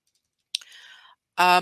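A single crisp mouse click lands as a filter is chosen in CRM software, close and clear, with a person's voice heard briefly around it.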